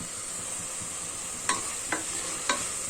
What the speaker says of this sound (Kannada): ಇದು ಗ್ರೇವಿ ಟೆಕ್ಸ್ಚರ್ ಫಾರ್ಮ್ ಆಗೋವರೆಗೂ ಐ ಫ್ಲೇಮಲ್ಲೇ ಫ್ರೈ ಮಾಡ್ಕೊಳ್ಳಿ